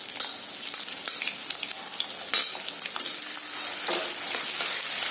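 Lengthwise-sliced onion frying with cumin in hot oil in a kadhai, a bright, crackling sizzle with occasional spatula scrapes, close up and with no voices.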